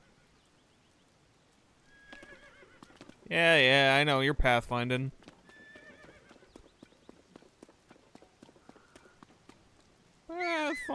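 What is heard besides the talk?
horse neighing in video game Tears of the Kingdom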